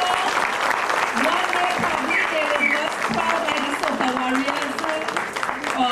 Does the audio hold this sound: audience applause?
yes